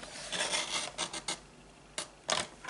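Blade scoring along a fold line on a paper gift card pouch, a few short dry scratching strokes close up, separated by brief pauses, with no talking.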